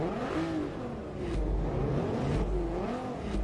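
Audi race car in Forza Motorsport 3 revving hard and accelerating, a loud, continuous engine roar with rising and falling pitch as it climbs through gears, close and alone.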